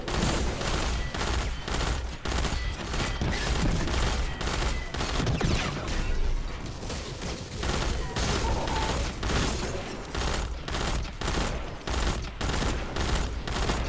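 Rapid, sustained gunfire from a weapon in the video game Destiny, dense bursts of shots repeating steadily with brief gaps, loud and close throughout.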